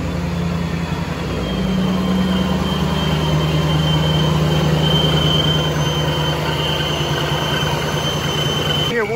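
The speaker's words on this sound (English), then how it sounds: "They have a very loud whine at idle." A car engine with a centrifugal supercharger sits at idle, its steady, loud high-pitched whine sustained over a low engine rumble throughout, recorded close and without talk.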